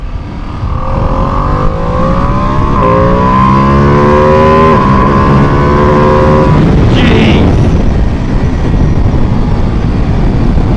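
Ducati Panigale V2S motorcycle engine revving in sport mode, loud and close, with rising pitch sweeps through several gear changes before the revs drop and a brief whine follows.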